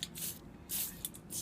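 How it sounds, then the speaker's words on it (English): Short aerosol bursts of ACF protectant sprayed onto the parts of a BMW R1200GSA motorcycle, about four hissing puffs in quick succession, close and fairly quiet. "We're just going to give a little spray of the old ACF, make sure everything's protected that should be"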